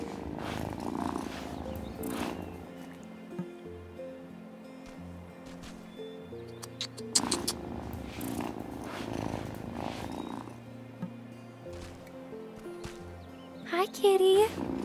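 A cat purring in Wylde Flowers, soft rhythmic purrs rising and falling under gentle background music, with a short voiced sound near the end.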